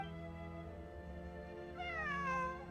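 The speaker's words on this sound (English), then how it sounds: "It really is a cat." A cat meows from a game event set in Sumeru, its steady tonal call rising into a brighter, wavering cry near the end, fairly close with no talking.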